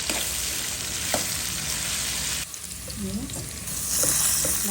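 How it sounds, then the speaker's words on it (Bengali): Onion, green chili, cardamom and cinnamon fry in chicken oil in a pan, a loud steady close sizzle with stirring scrapes and a brief dip before the crackle swells again. "এখন ভেজে নিব।"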